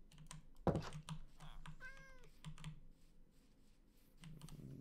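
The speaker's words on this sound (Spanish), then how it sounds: "Un gato. ¡Madre mía!" A cat meowing in a video game, one short rising meow in the middle under loud keyboard typing and clicking, with no talk.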